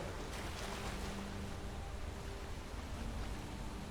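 Rushing water pours steadily in a Skyrim game setting, a dense broadband roar of a waterfall at constant loudness with no breaks, faint low hum beneath.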